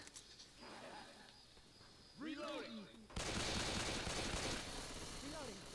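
Rapid gunshots from a Left 4 Dead 2 match in a muddy swamp level, a dense burst of close shots following other game noises, with people talking over the action.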